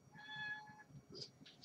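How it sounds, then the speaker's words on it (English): A pet cat meowing indoors, one drawn-out tonal meow followed by a shorter chirpy call, quiet and close with faint room noise. "that's my cat just saying hello"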